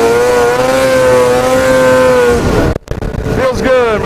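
Ski-Doo MXZ 700 snowmobile engine on a ride across a family farm, a loud, steady droning note held close by, then a brief drop-out before the engine surges and revs again.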